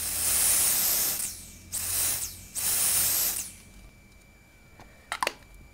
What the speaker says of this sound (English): it's like a spray, and you spray this all over your nails